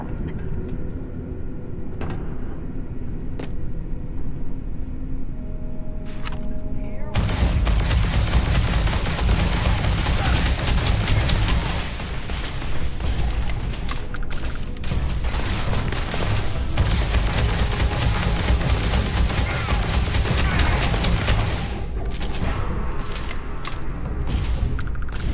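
Gunfire from a weapon in the Starfield video game inside underground mining tunnels. A few sparse shots come first, then sustained rapid bursts ring out loud and close, with clanking mechanical noise between volleys.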